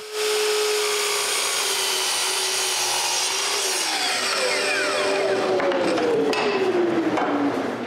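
A miter saw cuts through walnut, tilted for an angled cut, giving a loud, sustained whine with the blade's pitch sliding downward as it bites through the wood, close and alone.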